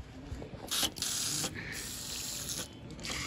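Water gushes strongly from a tap at close range, a loud hissing rush that surges in brief bursts over a few seconds, with no one talking.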